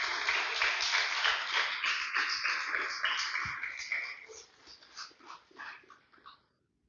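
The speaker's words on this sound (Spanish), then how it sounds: "Denle un fuerte aplauso al Señor" A church congregation gives a dense, sustained round of applause that gradually thins into scattered claps and fades out near the end.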